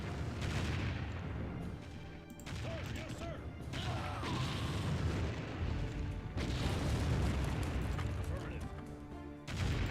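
Artillery fire in the Empire Earth strategy game: repeated booms and crashing impacts scattered through a busy battle soundscape, fairly dense, with a voice talking over parts of it.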